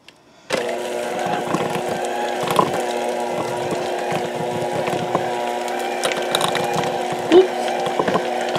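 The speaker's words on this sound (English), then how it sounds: "So we're just going to beat this up with my mixer." An electric hand mixer beating a dessert mixture switches on and runs with a steady whirring motor drone and rattling beaters, close and moderately loud, with occasional clatters against the bowl.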